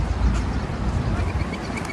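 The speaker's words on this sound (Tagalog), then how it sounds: "ang dami pati mga ibon dito" Ducks quack among many birds in a park with trees, a few close, raspy calls rising over a steady outdoor background for about two seconds.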